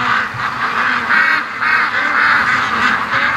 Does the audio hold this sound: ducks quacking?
yes